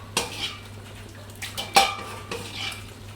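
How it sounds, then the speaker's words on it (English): Vegetable cooking liquid is ladled into a vegetable bake dish, with sharp clinks of a metal ladle against the dish and brief splashy pours, several separate knocks close by. "I need to add some liquid, the vegetables at the bottom, from what I cooked the veg in."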